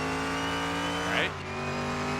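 A 1936 Fiat 500 in a drag race holds a steady, buzzing engine note, then brakes and downshifts with a quick rising rasp. The pitch then drops and settles lower.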